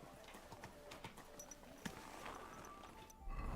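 Horse hooves clip-clop in a steady walking rhythm in the video game Kingdom Come: Deliverance, moderately close and fairly quiet, with a soft game ambience behind them and a louder thump near the end.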